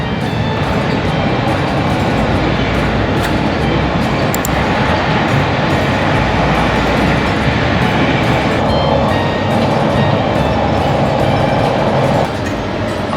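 An Italian train runs from Palermo toward Messina, heard from inside the vestibule as a loud, steady roar of wheels and rolling stock, with faint rattles and brief clicks and no pauses for the whole stretch.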